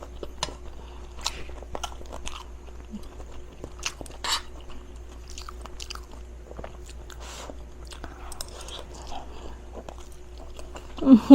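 Close, soft chewing and biting of kimchi fried rice topped with egg and sesame oil, irregular moist crunches and smacks over a quiet room hum, with a brief louder bite at the very end.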